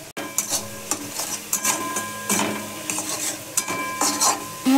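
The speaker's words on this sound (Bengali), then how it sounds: "দেবো হলুদ গুঁড়ো, লঙ্কা গুঁড়ো। মশলাটা ভালো করে কষাবো।" Turmeric and chili powder masala frying in a pan for a fish curry, oily sizzling with repeated scraping stirs of a spatula against the pan, close and steady, no voices.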